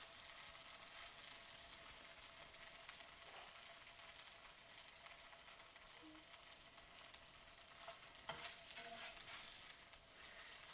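Cattails fry in a pan with mozzarella cheese, giving a steady soft sizzle with faint crackles and a few light stirring clicks, no talking.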